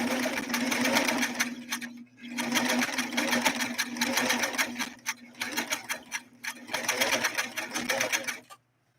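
A Singer Stylist sewing machine stitching a zigzag blind hem: fast, close, loud mechanical whirring and rapid ticking in long runs, broken by short pauses and a stuttering stretch before stopping.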